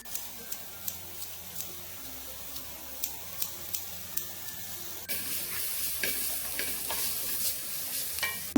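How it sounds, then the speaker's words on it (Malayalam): A cutlet filling stirred in a pan after half a teaspoon of garam masala goes in, with a steady soft sizzle and regular scraping strokes of a spoon. The sizzle swells louder partway through. "1/2 ടീസ്പൂൺ ഗരം മസാല പൊടിയും കൂടി ഇട്ട് ഇളക്കി കൊടുക്കാം."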